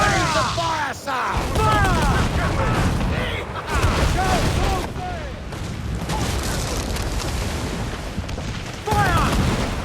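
Ship cannon fire in Assassin's Creed IV: Black Flag naval combat, repeated heavy booms with whistling shots over a dense battle din, several blasts clustered near the start and more scattered later, with shouted voices mixed in.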